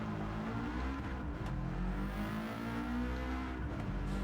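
Subaru WRX STI engine in Gran Turismo 7 on Tokyo Expressway, revving high in the upper range with a steady, loud, continuous drone and no talk.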